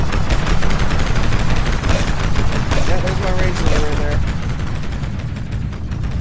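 Spaceship lasers in Limit Theory fire in a dense, loud, continuous rapid volley of crackling shots during space combat, with someone talking over the barrage.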